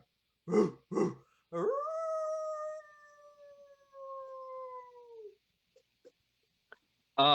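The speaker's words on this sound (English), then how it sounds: "You hear barking." A dog lets out two short barks, then a long drawn-out howl that slowly fades, followed by a few faint yips and another bark.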